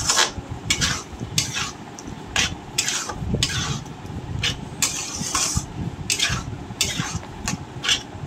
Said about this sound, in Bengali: ভালো করে একটু টক দইটা দিয়ে নাড়াচাড়া করে নিচ্ছি